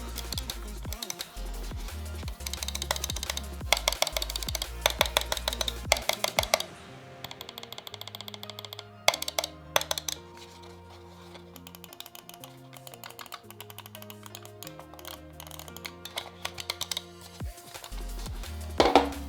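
Clicks from a Razer computer mouse in a sound test, arriving in quick bursts of sharp, close taps with brief pauses between runs, alone without any talk.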